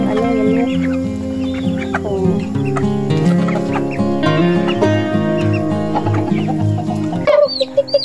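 Chickens cluck steadily and loudly throughout as chicks are caught on a mountainside farm, with layered overlapping calls close by and a brief change in the last second.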